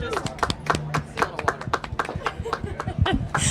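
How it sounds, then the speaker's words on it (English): Several people clap on a live horse-racing broadcast set at the Breeders' Cup in Del Mar, giving quick, uneven close-up claps mixed with chuckles and laughter, with talking running through it. "I feel like we got to clap her off this set."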